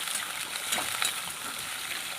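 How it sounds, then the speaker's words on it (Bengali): Chunks of potato, papaya, carrot, radish and green banana sizzle steadily in hot oil, a continuous bright crackle close by with faint stirring scrapes and no voices. "আমি আলু পেঁপে গাজর মূলো কাঁচা কলা এগুলোকে দিয়ে খুব ভালো করে ভেজে নিচ্ছি"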